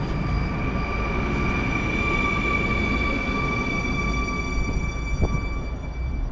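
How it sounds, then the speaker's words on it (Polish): A heavily graffitied Flirt commuter train from Ciechanów to Warszawa Zachodnia pulls into a platform at Warszawa Toruńska, with steady rumbling and sustained high tonal whine from its motors close by. "wjeżdża flirt, uh, pomazany mocno pociąg z Ciechanowa do Warszawy Zachodniej"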